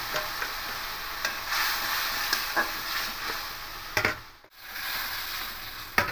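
Tamarind chutney hitting hot oil with dried chillies in a pan for a sour silver carp fish curry, giving a continuous sizzle and frying hiss broken by stirring scrapes and a brief pause.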